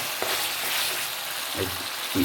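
Tomatoes and onions cook in a pan for a chicken gravy, a continuous close frying sizzle with a few soft stirring scrapes.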